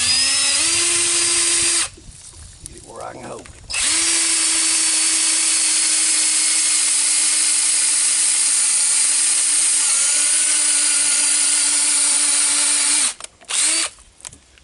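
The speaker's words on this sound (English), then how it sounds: "I'm going to take me a drill bit and my cordless drill, and I'm going to drill me a hole in this piece of brush" A cordless drill bores a hole in a piece of brush, whining loudly and steadily in long runs with short pauses, while someone speaks briefly during one pause.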